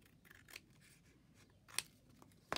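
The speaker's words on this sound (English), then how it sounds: "And I can even just trim that off already." Scissors trimming fabric in a sewing project, three short, crisp snips at uneven gaps, close and quiet against a near-silent room.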